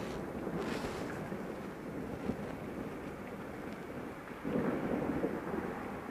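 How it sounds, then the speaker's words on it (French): Deep rolling thunder from a violent electrical thunderstorm over Carpentras rumbles low and continuous, swelling louder near the end amid wind buffeting on the microphone, with no talking. "Putain, vous entendez le tonnerre,"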